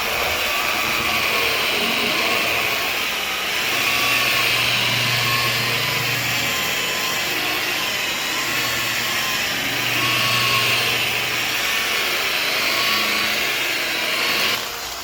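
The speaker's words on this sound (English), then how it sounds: "The rotary only rotates. It doesn't oscillate or anything like that." A rotary polisher works car paint with a steady, loud whirring drone that swells and eases slightly as the pad moves, with no talk over it.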